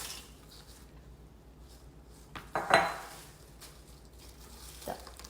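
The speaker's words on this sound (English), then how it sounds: "now you see I'm using 2 of the spatulas to mix it all well" Two spatulas mix snack bar ingredients with nuts and crackers in a pan off the heat, making a few close scraping and clinking knocks, one louder clatter near the middle, over a quiet background.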